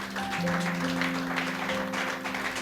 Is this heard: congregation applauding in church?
yes